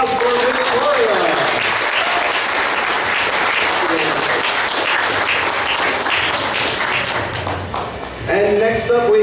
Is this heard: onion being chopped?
no